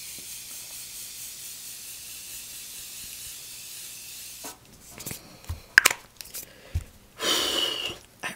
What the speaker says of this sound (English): It is a great setting spray because it, doesn't stop spraying.